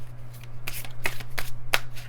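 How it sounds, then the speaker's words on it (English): A new deck of Threads of Fate Shadow Oracle cards being shuffled, with rapid riffling and slapping bursts repeating close up over a steady low hum. "they have been really well shuffled, I promise"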